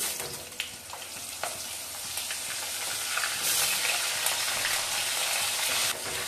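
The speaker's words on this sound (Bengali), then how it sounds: "আলুটা একটু ভেজে নিচ্ছি" Potato pieces frying in hot oil with cumin seeds and bay leaf give off a steady, close, broadband sizzle that swells slightly midway, with a few faint stirring clicks and no talk.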